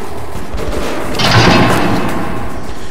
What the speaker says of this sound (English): I like how they didn't shoot me until like I got right up to them.